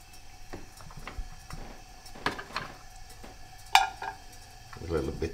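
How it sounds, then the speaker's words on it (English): Pan for grilled cheese set on a gas stove with butter: scattered metallic clinks and knocks of cookware and utensils, one sharp clank, ending in a soft rising sizzle, with talking in between. "we bring this on the stove, put the gas on, and we use butter"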